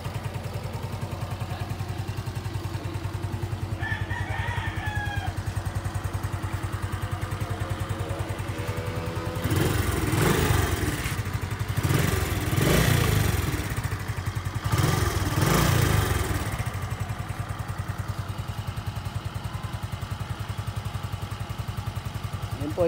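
A 2023 Suzuki Smash motorcycle engine idles with a steady low putter, then gets a few sharp revs in the middle before settling back to idle, close and moderately loud.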